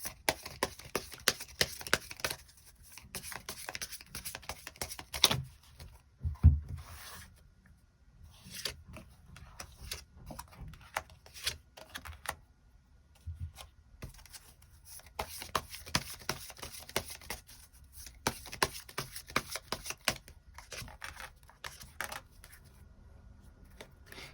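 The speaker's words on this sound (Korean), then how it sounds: "지금 나에게 필요한 조언의 카드도 몇 장 더 뽑아보도록 하겠습니다." Tarot cards being shuffled and drawn, with quick papery riffles, slaps and flicks coming in irregular bursts, close but quiet, with short pauses in between.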